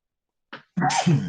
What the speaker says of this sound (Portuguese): tive que dar uma tossida aqui